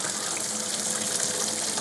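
Tap water runs steadily at full flow while rinsing beef stock ingredients in a kitchen, a loud continuous gushing that fills the whole moment with no other sounds.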